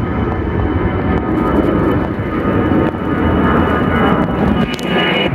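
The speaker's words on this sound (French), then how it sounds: "Ok, l'avion est en train de partir." An airplane passes overhead at night, a loud, steady roaring engine rumble that fills the outdoor silence throughout.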